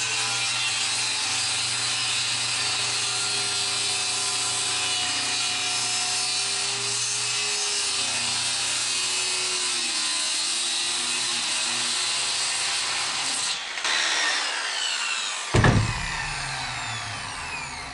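Power saw cutting through 8-foot wooden boards, a loud continuous close buzzing whine with a changing pitch as the blade works, ending with a brief thud as the cut finishes.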